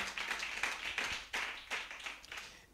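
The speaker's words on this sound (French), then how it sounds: "Clap for Jesus." A church congregation claps for Jesus during a night of prayer and fasting, a run of loud, uneven bursts of hand claps with no voices over them.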